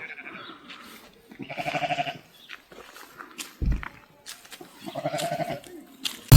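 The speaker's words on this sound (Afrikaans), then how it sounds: "Hierdie skape gaan nou in die kampplek in." Sheep bleating near a campsite in the Tankwa Karoo and Cederberg region of South Africa, with several loud, wavering calls in separate bursts over about six seconds and quieter stirrings and a thump between them.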